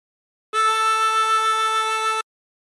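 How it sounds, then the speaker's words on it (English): On a diatonic harmonica, hole 3 is drawn and bent down to A, giving one steady reedy tone with a slight wavering that is held for under two seconds. It is close and alone, with silence before and after. "breathe in through 3 and bend the note to produce A"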